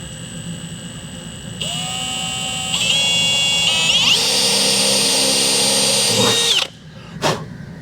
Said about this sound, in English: I'm just starting with a smaller drill bit because it's easier to get an